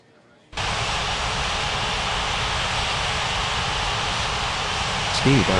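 After a brief quiet start, a loud jet roar from an airliner taking off in the game Unmatched Air Traffic Control cuts in suddenly and holds steady and broad, with a short tonal blip near the end.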